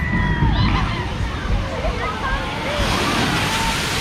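Water splashes and sloshes heavily as an amusement park boat ride comes down a hill at Knoebels in Elysburg, Pennsylvania, a steady, close spray with voices in the background.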